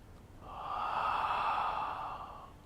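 A single long, airy exhale during a yoga triangle pose swells and then fades away, close to the mic and alone in a quiet room.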